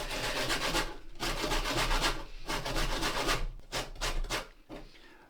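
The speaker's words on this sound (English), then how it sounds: "I'm going to have about half of an orange zested" A large orange is rubbed against a grater to remove its zest, giving a series of dry rasping strokes, several long and steady and then quicker shorter ones, close up and alone.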